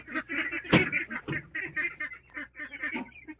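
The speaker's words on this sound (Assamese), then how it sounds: "এইফালে হাঁহ আছে" Ducks at a rural poultry pen, quacking in repeated bursts close by with a busy rhythm, one louder sharp call standing out.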